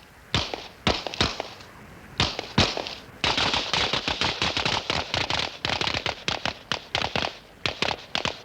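Rapid .38 revolver fire at a 1960s police firing range: a long run of sharp, loud cracks, a few spaced shots first, then dense overlapping volleys from several shooters with brief gaps.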